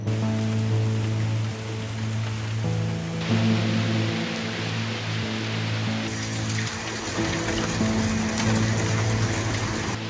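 Steady, broadband rain pours outdoors in Bali, an even hiss that stays continuous and fairly loud for the whole stretch, with a low background hum running underneath and no voices.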